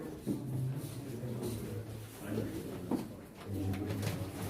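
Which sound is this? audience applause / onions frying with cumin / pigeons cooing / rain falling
pigeons cooing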